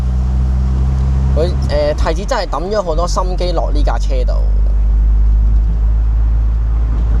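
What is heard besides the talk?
Toyota MR2 car engine while driving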